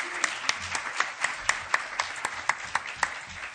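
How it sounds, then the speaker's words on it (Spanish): Light applause from a summer-course audience honouring two speakers, moderately distant, with a few sharp distinct claps standing out in an even rhythm over soft room noise. "un aplauso para los dos ponentes"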